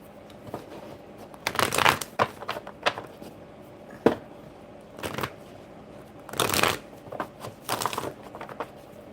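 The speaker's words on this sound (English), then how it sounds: "just pick them right up and start shuffling" Playing cards being shuffled in a series of quick riffling bursts with short pauses between, close and crisp, no voices.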